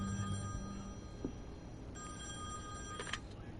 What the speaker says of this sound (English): I'm gonna go answer the phone.